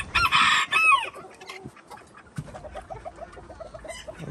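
Silver Campine chickens and a rooster in a yard, a loud rooster crow up front followed by a steady run of close clucking from the flock.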